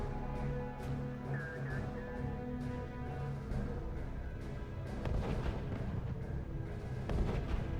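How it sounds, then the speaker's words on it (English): Artillery and bunker gunfire in the real-time strategy game RUSE: a dense, continuous rumble of booms and cracking shots that builds louder toward the end, with no clear talk. "He just got shot at by the bunker."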